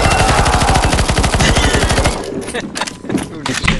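A loud, fast machine-gun burst rattles in the CS:GO zombie escape mod while players fire at a boss. The even rhythmic fire cuts off after about two seconds, leaving scattered shots and voices.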